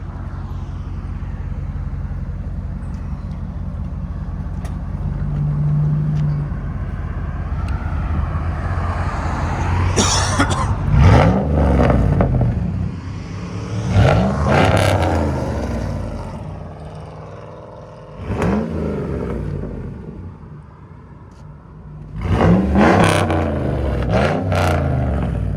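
A straight-piped RAM V8 truck engine idles with a deep rumble, then bursts into repeated loud revs, each climbing sharply and falling back, with gaps of idle between the blips and no talking.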